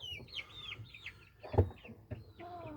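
Gamecock chickens of an old fighting breed cluck and call in a farmyard, several short bird calls in sequence with a brief thump midway.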